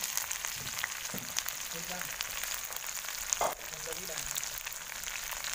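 Grasshoppers frying in hot oil in a pan, a steady low crackling sizzle with occasional scraping stirs, fairly quiet and heard without talk.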